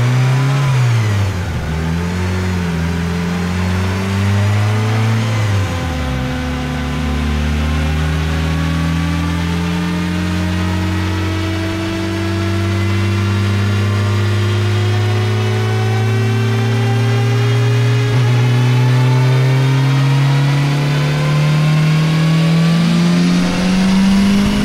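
A turbocharged Honda Civic D16 engine on flex fuel pulls hard on a dyno, its steady, loud drone climbing continuously in pitch through a long wide-open-throttle run with no talking.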